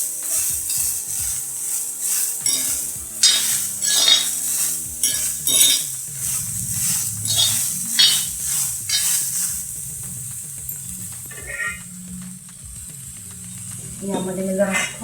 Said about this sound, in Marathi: चवीला डाग पडेपर्यंत भाजून घ्यायचं आपण थोडी.